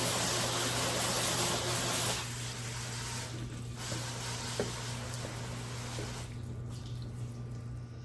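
A water spray rinses a truck's headlight outdoors, a steady close hiss that is louder at first and then softer, with a faint steady hum beneath.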